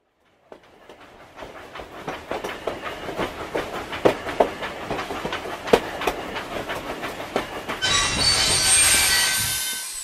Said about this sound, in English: it's good that the train prevented the accident by stopping